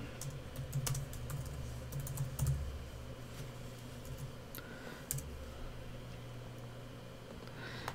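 Computer keyboard typing comes in quick irregular bursts of clicks, with a few separate louder mouse clicks mixed in, close and moderately quiet over a faint steady hum.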